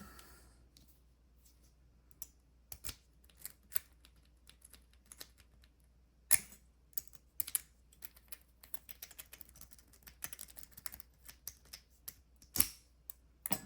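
A Sparrows Kirigami rake pick works a lock, making scattered light metallic clicks and ticks up close in short, irregular bursts over near silence.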